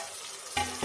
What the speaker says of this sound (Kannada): ನೋಡಿ, ಟೊಮೊಟೊ ಹಾಕ್ತಾಯಿದ್ದೀನಿ.